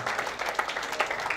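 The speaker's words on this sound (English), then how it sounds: "I got to clap your hands for Jesus." Church congregation clapping hands at an altar service, a dense, steady patter of many hands, sustained and fairly close throughout.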